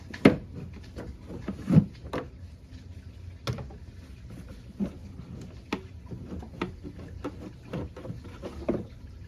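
Plastic knocks, clunks and scrapes as the air filter housing cover is worked loose on a Buick Enclave, with scattered sharp taps and rattles close by, no talking.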